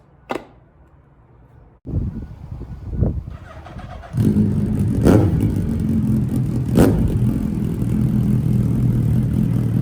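A Suzuki Hayabusa motorcycle starts up after a few quiet clicks and clunks, then settles into a loud, steady engine drone close by, with brief rev spikes as the ride begins. No one speaks.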